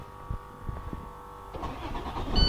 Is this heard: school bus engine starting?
yes